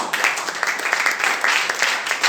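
A church congregation clapping together in a dense, steady burst of applause, fairly loud and close, with no voice rising above it.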